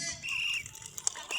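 Peace pigeons released at a school event, a brief burst of flapping wings as they take off, mixed with faint chirps and distant outdoor crowd noise.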